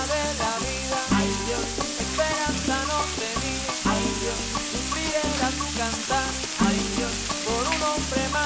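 Tomato goes into a pan of frying peppers, onion and garlic for a Veracruz-style fish sauce, giving a loud, steady sizzle and bubbling that runs continuously over a rhythmic, tonal background, with no talking.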